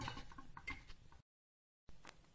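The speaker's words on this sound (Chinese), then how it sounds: "之后我们把这个螺丝上紧" Metal screws are tightened on an essential oil distiller with a steam pot and condenser, making close, dense clicking and scraping that stops for a moment of silence and then resumes.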